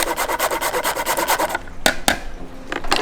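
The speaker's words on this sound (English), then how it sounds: "I'm going to grind some nutmeg into it, freshly ground." Fresh whole nutmeg scraped across a grater for a lamb köfte recipe, a rapid rhythmic rasping of about a dozen strokes that stops, followed by a few isolated scrapes and taps, close and alone.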